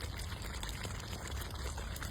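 Amul fresh cream poured into a pan of chicken Afghani, a soft continuous liquid trickle and splash that runs steadily and close, with no one talking.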